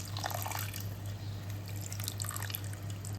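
Tamarind water is poured into a pot of fish curry, with trickling and splashing sounds that run steadily throughout, close by, with no talking.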